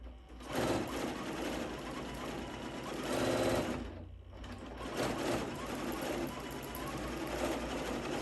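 A Janome Continental M17 sewing machine runs through stitches in a steady, fast mechanical whir, easing briefly about halfway through before resuming at full speed.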